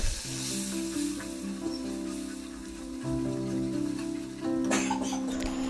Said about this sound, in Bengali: মশলার থেকে তেল বেরিয়ে আসলে প্রথমেই মশলার জলটি দিয়ে দেব।